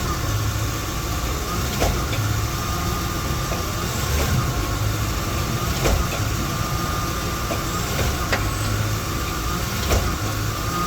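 A Lexus LX470's drivetrain heard from underneath the car, a steady rumbling drone with periodic sharp clunks repeating roughly every two seconds, close and continuous.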